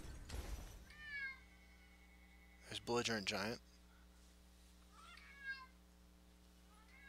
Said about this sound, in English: Sorry again about the cat noise.